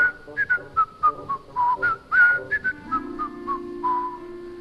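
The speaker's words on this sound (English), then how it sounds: "Suddenly, they heard the sound of whistling." Whistled melody from a boy coming up a road, a clear tuneful line of sustained notes moving up and down over soft background tones, with no talking.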